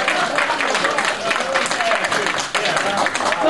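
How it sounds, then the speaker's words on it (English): An audience at a convention panel applauds a guest, a fairly loud wash of clapping that runs steadily for a few seconds with some voices mixed in. "I would like a pleasing UK round of applause for our first guest"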